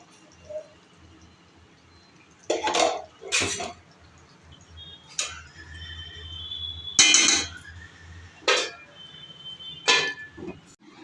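A metal lid clanks onto a pan of fish cooked with bottle gourd leaves, in several sharp, separate knocks and scrapes spread over a quiet kitchen.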